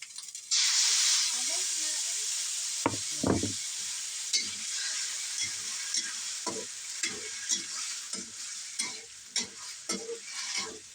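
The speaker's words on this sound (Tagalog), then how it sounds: "igisa-gisa ang sibuyas at bawang" Onion and garlic sautéing in a pan, with a loud sizzle that settles into steady frying hiss, broken by repeated clacks and scrapes of stirring, while someone talks over the cooking.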